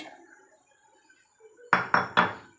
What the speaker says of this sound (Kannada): ಕಡಲೆ ಬೀಜ ಹಾಕ್ತಾಯಿದ್ದೀನಿ ಮಿಕ್ಸಿ ಜಾರ್ಗೆ